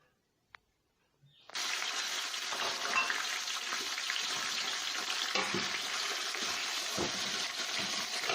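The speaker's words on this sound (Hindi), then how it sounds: "अब इसमें चिकन डाल देंगे।" Chicken pieces for haleem land in a hot pan and set off a loud, steady sizzle and crackle after a brief quiet moment. The frying continues close by without a break, with occasional stirring scrapes.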